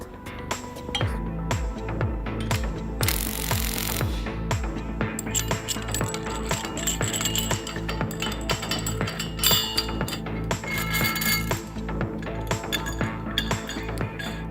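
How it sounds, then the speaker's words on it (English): Bolts being loosened with metal hand tools on a rupture disc test installation mounted between flanges, giving repeated clanks, metallic clinks and scraping knocks at an uneven pace, close and fairly loud, with no voices. "the bolts can be loosened."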